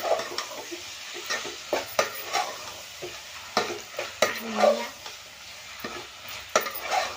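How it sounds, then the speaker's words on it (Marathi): Masala for egg chicken biryani is stirred in a pan, with repeated scraping strokes and clinks of a spoon against metal over a light, steady frying sizzle. "त्याला मस्त हे बघा असं हलवून घ्यायचं आहे आपल्याला"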